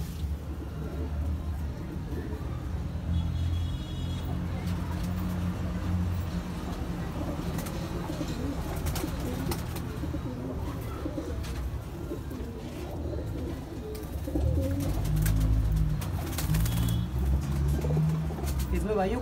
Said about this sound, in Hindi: कबूतर देखिए आप, सारे एंटीक कबूतर हैं इसके अंदर